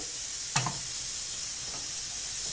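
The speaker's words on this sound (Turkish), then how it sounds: "hemen yağımız biraz şöyle ısındığı zaman bir tane şöyle şu kadar bir soğan doğradım orta boy" Chopped medium onion frying in hot oil, a steady soft sizzle with one sharp pop near the start, faint and continuous with no talk.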